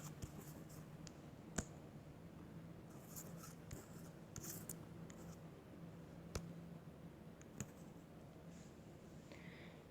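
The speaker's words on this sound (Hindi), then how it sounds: "हम एक बार लिख भी लेते हैं ताकि आपको अच्छे से समझ आ जाए।" Pen or pencil writing a heading on paper, faint scratchy strokes with a few sharp taps of the tip, steady and close against quiet room noise.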